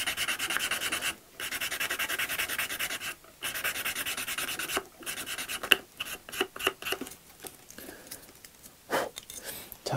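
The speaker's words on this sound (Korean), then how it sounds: "스틱 사포를 이용해서 이 접합선 부분을 다듬어 주게 됩니다" Stick sandpaper rubs seam putty on a plastic model car body, making a steady close scratchy rasp in repeated strokes with short pauses, growing more choppy toward the end.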